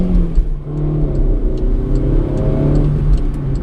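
A Volkswagen Gol accelerating to merge onto an urban expressway in city traffic, its engine note rising loudly and steadily from inside the car with no talk over it.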